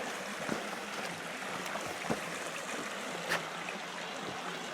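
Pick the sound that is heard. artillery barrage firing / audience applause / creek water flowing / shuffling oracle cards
creek water flowing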